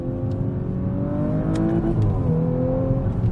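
An Audi RS5 cruising at about 90 km/h on a forest road, its engine note rising and shifting in smooth tonal sweeps, loud and close with a couple of brief clicks partway through.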